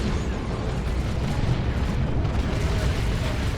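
Whirlwind artillery in the strategy game Dawn of War 2: Retribution pounds away in a 2v2 battle, a dense continuous roar of booms and explosions with heavy rumbling low end, loud and unbroken throughout.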